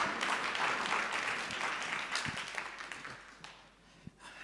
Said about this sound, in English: Round of applause for Manav